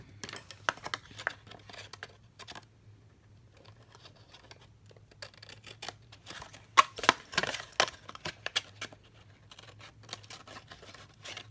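Scissors cut through paper for a pop-up gift box, a series of soft snips and crisp rustling crinkles at close range, irregular and fairly quiet, with pauses between cuts.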